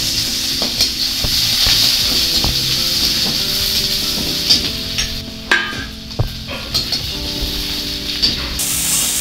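Garlic frying in mustard oil during a tempering, a loud close hissing sizzle with scattered crackles and a few utensil taps, steady throughout.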